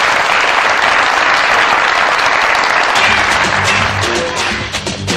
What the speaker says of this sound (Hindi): बहुत सारी तालियां रबाब के लिए भी।